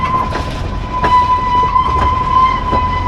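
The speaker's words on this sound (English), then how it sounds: "And the little train is still going underneath," A small amusement park train rolls past at Blackpool Pleasure Beach, a loud, continuous rumble with a steady tonal hum and rhythmic clicks, close by and without speech.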